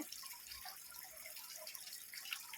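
Water trickles and drips in a small two-tier decorative waterfall carved from scrap foam, a faint, steady, delicate splashing with scattered bright drips and no voices.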